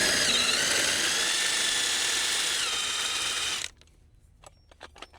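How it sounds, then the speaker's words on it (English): An AGM Manual Jack Sport lowers under a Can-Am Defender with a continuous close mechanical ratcheting whir for several seconds, then stops, leaving a few faint clicks and knocks. "Lower our jack back down"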